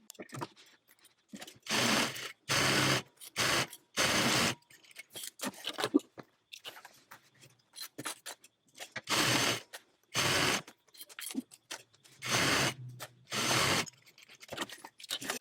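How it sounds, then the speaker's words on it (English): A sewing machine stitches down the sides of a tote bag at a half-inch seam, running in repeated bursts of steady mechanical whirring separated by pauses, with a voice talking briefly in between. "now I'm going to go to my sewing machine and using 1/2 inch seam allowance, I'm going to stitch down each side"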